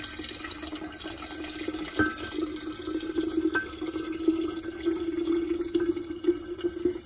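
Hibiscus agua de Jamaica with fruit pours steadily into a pitcher, a continuous close liquid trickle and splash with a few brief clinks, no one speaking.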